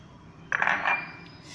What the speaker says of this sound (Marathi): त्याच्यामध्ये कांदा टाकायचा आहे एका बाउलमध्ये